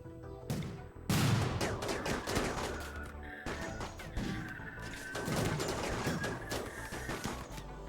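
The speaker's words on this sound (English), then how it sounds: "Shooting at the animals." In the RimWorld colony game, repeated volleys of gunfire are aimed at animals, sharp bursts coming in clusters over several seconds with short pauses between them, loud and close.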